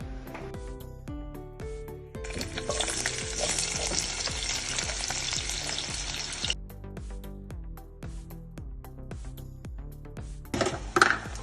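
Onions and sauce fry in a pan, a steady close sizzle with clinks of utensils stirring, and music playing underneath throughout.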